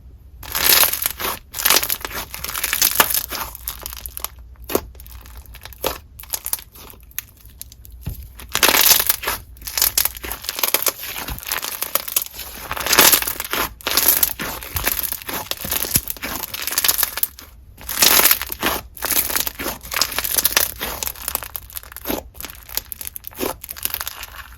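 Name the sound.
playing with clear slime, bubble pops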